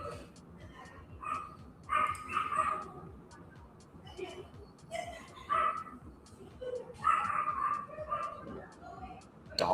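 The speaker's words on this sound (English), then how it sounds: "Dog going down the hallway?" A dog barks and yips in short repeated bursts at moderate distance indoors, over a steady background murmur, with faint speech mixed in.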